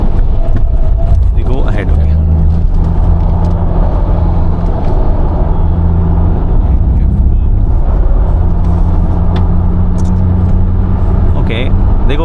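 Heavy battery-electric MG Cyberster sports car accelerating hard on a road, with a loud, steady drive rumble and road roar throughout and someone talking over it.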